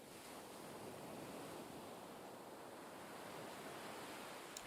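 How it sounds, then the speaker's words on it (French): Slow, regular ocean waves wash onto a beach in a steady, soft surf roar, with a faint breathy wind hiss and no voices. "Le son lent et régulier des vagues se fait entendre dans un rythme très apaisant."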